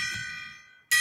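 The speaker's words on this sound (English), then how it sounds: "You want me to bang the gong?" A struck gong rings with a bright metallic shimmer that fades away, then a second sharp hit lands near the end, loud and close.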